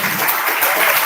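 A lecture audience in Italy claps together, dense steady applause that is loud and close for about a second, with no one speaking over it.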